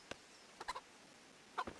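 A chicken in the medieval game Kingdom Come: Deliverance gives a few faint, short clucks, one isolated and then small clustered bursts against a quiet background.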